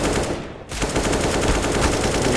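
Loud, dense automatic gunfire from a Counter-Strike match between CompLexity and Gen.G at DreamHack Anaheim 2020, rapid shots overlapping continuously with no pause.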